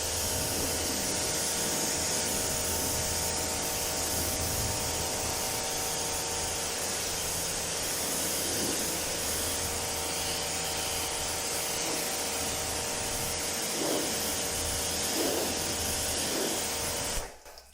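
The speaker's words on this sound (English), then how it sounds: "we immediately start rinsing from bottom to top, in this case, to spread the product evenly." Continuous hiss of a water hose rinsing a car from bottom to top, steady and fairly loud for the whole stretch, with a faint mechanical hum underneath, then it abruptly stops.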